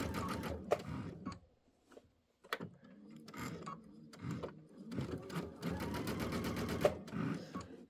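A sewing machine runs a center straight stitch on a quilt border in bursts, with short whirring runs broken by brief pauses, close and fairly quiet.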